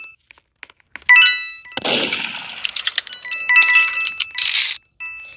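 Gunshot in the Roblox game Murder Mystery 2: a sharp game gunfire crack near the middle, mixed with other game sound effects, chimes and tones, with no talking.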